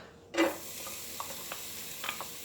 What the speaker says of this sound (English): in my pot I'm going to add the olive oil, and I'm going to be putting in the onion and the garlic